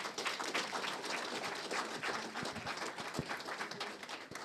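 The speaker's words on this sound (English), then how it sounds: "Give her another round of applause." Round of applause from the audience at an annual general meeting, a steady, fairly distant wash of many hands clapping that holds evenly throughout without talk.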